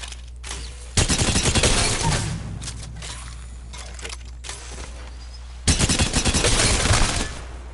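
A gun in the video game Apex Legends fires two sustained bursts of rapid automatic shots, loud and close, with a quieter stretch of scattered shots and clatter between them.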